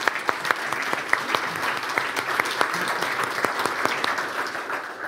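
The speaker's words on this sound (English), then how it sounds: "I think we should give them a hand of applause" Steady applause from a conference audience at a technology talk, many hands clapping continuously at moderate distance with a few sharper individual claps standing out.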